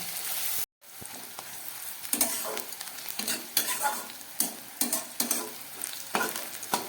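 Onions for aloo dum fry and sizzle in a pan, stirred close by with a regular rhythm of scraping strokes over a constant hiss, after a brief silence near the start.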